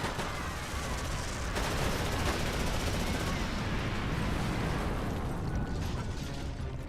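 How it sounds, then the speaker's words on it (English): Gunfire in the mobile game Fate/Grand Order during a battle at an Aztec blood ritual, a dense, continuous barrage of rapid shots and bursts layered with mechanical clatter, loud and unbroken from start to finish. "Gunshots."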